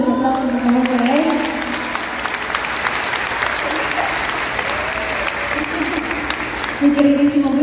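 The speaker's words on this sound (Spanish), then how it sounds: "Fuerte los aplausos, por favor, para él." A concert audience in the Teatro Santo Toribio de Mogrovejo applauds the saxophonist, loud, dense clapping and crowd noise throughout, with a sustained musical tone underneath and a swell near the end.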